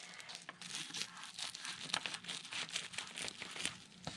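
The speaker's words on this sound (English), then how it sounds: "Then you're going to cut the seam on the bottom off." Scissors cutting the bottom seam off a plastic bag, with close, busy crinkling and rustling of thin plastic and sharp snipping crackles throughout, no talk.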